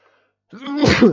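A single sharp sneeze, close and loud, starting with a brief intake of breath and bursting into a short, forceful release.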